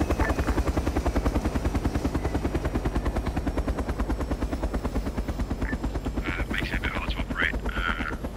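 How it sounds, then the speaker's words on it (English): A military helicopter spooling up in the video game ArmA 3, giving a steady, fast rotor chop that stays loud throughout, with brief radio-like chatter near the end. "I pointed in to get in my chopper, and I spooled up"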